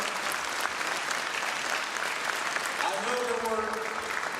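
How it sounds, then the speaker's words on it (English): An audience applauds the judges at an awards event, a steady dense patter of clapping heard from a distance, with a voice starting to speak over it near the end. "We'd like to give you a big round of applause for doing your hard work today."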